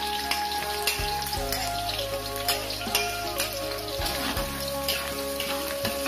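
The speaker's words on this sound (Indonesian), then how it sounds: "Ini bawang merah, bawang putihnya, dan juga serai dan cabenya nanti saya tumis." Shallots, garlic, lemongrass and chili sizzle in hot oil for a chili-shrimp sambal, a close, steady crackle and spatter with scattered pops and a few clinks of a utensil, no talking.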